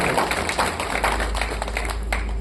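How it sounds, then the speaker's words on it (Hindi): Audience at a Hindi poetry recital giving a poet lively applause, steady rapid clapping from many hands throughout, with a low hum underneath. "मैं चाहता हूँ एक बार जोरदार ताली भाई कौशल का"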